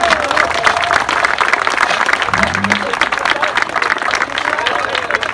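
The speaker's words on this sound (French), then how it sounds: "Monsieur Fréour, monsieur le Premier ministre, vous pouvez l'applaudir." An audience applauds in a dense, steady wash of clapping, with a voice briefly audible underneath.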